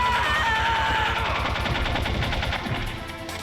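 Rapid gunfire in the 1998 video game Metal Gear Solid, with loud, dense bursts of repeated shots in a fast rhythm that fade slightly toward the end.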